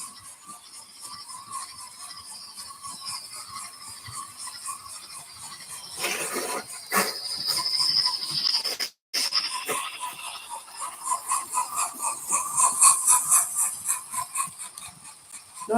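A model steam locomotive chuffs with a running steam effect, giving a steady hissing, breathy stream of puffs that swells louder in the second half, with a brief cut-out partway through.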